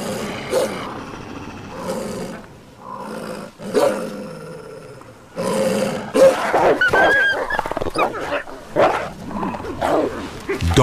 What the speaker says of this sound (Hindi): गुर्राना और दांत किटकिटाना ही झुंड में पोजीशन स्ट्रॉन्ग करता है।